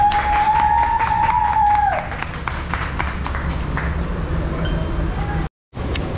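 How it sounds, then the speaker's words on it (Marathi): A small group claps steadily and fairly close at the delivery of a new Mahindra Bolero Neo N10 top-model SUV, with voices mixed in and a brief whistle-like tone at the start. "हे टाळ्या वाजवा."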